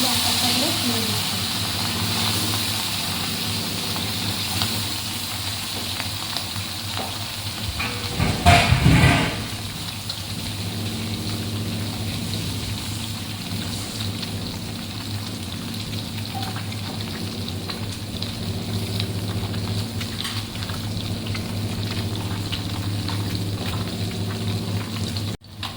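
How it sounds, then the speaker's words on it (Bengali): Fish pieces laid one by one into hot oil in a pan give a steady crackling sizzle that runs the whole time, with a louder burst of spatter near the middle. "এখানে কড়া তেল দিয়ে বসিয়ে দিয়েছি, আর মাছগুলো একটা একটা করে তুলে দিচ্ছি"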